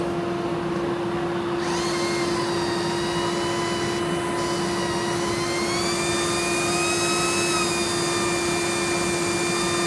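A dust extractor runs continuously at a loud, steady pitch, its motor whine rising slightly and shifting in tone partway through as airflow changes.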